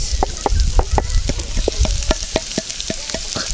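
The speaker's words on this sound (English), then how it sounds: "now while frying the rice, you had your chopped carrots and green beans" Rice fries in a pan with carrots and green beans, a steady loud sizzle punctuated by rhythmic scraping strokes of a spatula stirring it, close up and without talk.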